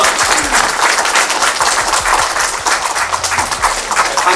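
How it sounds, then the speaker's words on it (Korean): An audience at a Korean award ceremony applauds a prize recipient, loud close clapping with distinct individual claps over a continuous wash of hands, with no one talking. "큰 박수 부탁드립니다"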